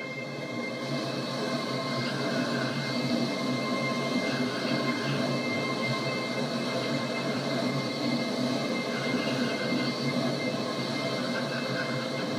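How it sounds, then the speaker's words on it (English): A train rumbles past at a steady, sustained roar with a faint high squeal from the wheels, moderately distant and continuous throughout. "We've also got a train passing."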